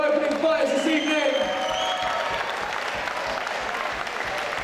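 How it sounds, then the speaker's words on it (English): A crowd at an amateur fight night applauds the opening fighters, with sustained clapping and scattered cheers from the audience while a voice speaks over the first second or so. "a big round of applause for our opening fighters this evening"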